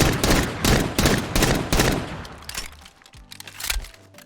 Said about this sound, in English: Starting off with the partial reload.